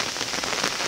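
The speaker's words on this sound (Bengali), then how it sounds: "অনেক ঝড় বৃষ্টি হচ্ছে অনেক পরি বিশাল বৃষ্টি হচ্ছে" Stormy downpour hammers a pond surface, a constant loud wash of splashing drops heard up close, with no one speaking.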